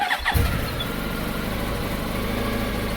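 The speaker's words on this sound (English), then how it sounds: "I'm thumbing the starter" A motorcycle engine catches after a short starter whir and settles into a steady, loud idle that runs on alone.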